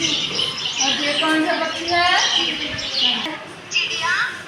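A recorded sparrow call played as a bird-sound quiz, bright high chirps and trills running through the whole stretch under voices of a teacher and children talking.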